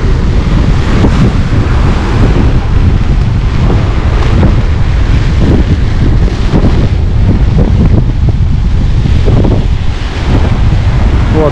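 Strong wind on a deserted Lazarevskoye beach on a rainy day buffets the camera microphone in constant loud rumbling gusts, with surf washing faintly underneath.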